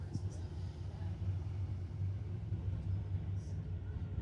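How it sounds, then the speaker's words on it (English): A 1973 Chevy Nova with a 434 engine lines up against a 2008 BMW 335i at a street-legal drag event, giving a steady, loud, low engine rumble that holds evenly throughout. "1973 Nova, running a Chevy 434. Going against Dorian Unkovic from Burnaby in his 2008 BMW 335i."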